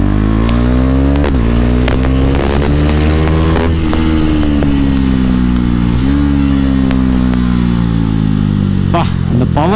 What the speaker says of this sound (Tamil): அப்பா சவுண்டுனா இப்படி இருக்கணும் வண்டி சவுண்டு